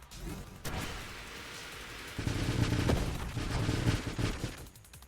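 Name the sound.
missiles launched in video game Nova Drift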